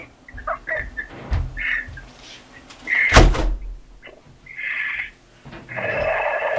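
A balcony door in an apartment swings shut with a loud thud partway through, set among indoor clatter and outdoor noise with birds chirping in the background.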